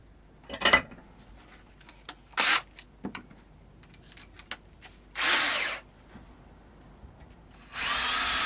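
Short bursts of a power drill boring holes while a semi-hollow guitar is set up, several separate whirring runs of a second or so each, with quiet handling clicks and pauses between them.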